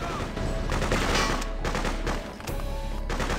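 Machine gun fire from the video game Freedom Fighters, rapid bursts of automatic gunfire with short gaps between them, loud and dense against a rumbling game soundscape, with no talking.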